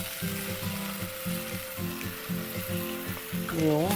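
Spinach, thyme, butter and onions sizzle steadily in a pan, a close, constant frying hiss with a faint hum beneath it and a brief spoken word near the end.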